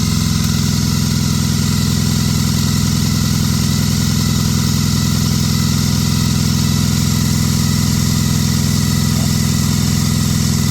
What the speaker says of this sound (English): Let's wait till compressor kicks in.